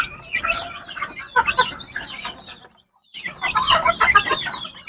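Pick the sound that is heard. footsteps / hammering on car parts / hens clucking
hens clucking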